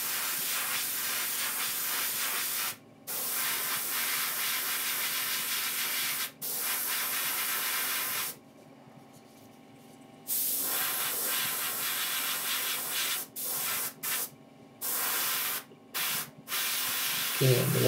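An airbrush or spray can hisses a fine mist onto a miniature's base in long continuous bursts broken by short pauses, loud and close.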